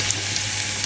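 Chopped onion fries in olive oil in a pan, a steady bright sizzle holding evenly from start to finish with no voices over it.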